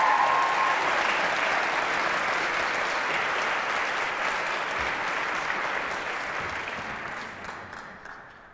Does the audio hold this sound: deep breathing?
no